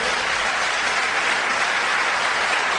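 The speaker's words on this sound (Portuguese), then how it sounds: "Aplauda Jesus." A church congregation applauds together, a steady broadband wash of clapping at even loudness throughout, dense and continuous without breaks or talk.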